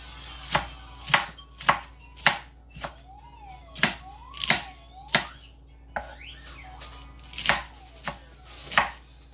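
Rough chopping with a knife on a cutting board, a steady run of about fifteen sharp, close knocks at an even rhythm, with no talking.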